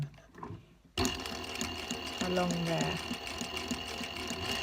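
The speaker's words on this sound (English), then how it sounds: "I'm just going to machine stitch" A sewing machine starts abruptly and runs steadily, stitching curtain weight pockets with a close, even mechanical whirr while someone talks over it.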